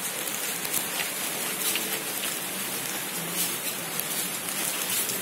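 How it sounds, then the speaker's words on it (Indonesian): Heavy rain pours steadily as a dense, even hiss of drops drumming on surfaces, continuous and close throughout with no voices. "Oh, hujannya makin deras."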